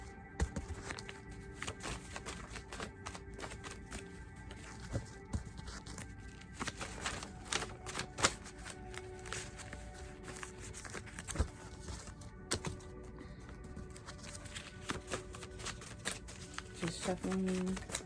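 Cards being riffled and shuffled repeatedly with soft rapid flutters and taps, close by, while a person talks over them in the background.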